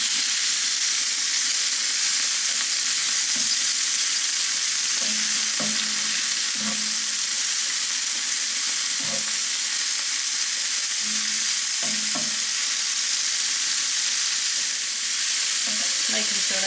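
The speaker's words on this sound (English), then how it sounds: "I just want to get some nice colour on these prawns." Prawns sizzle in a frying pan for a coconut curry as they are stirred, with a steady close hiss broken by scattered scrapes and clicks of the utensil against the pan; no one speaks.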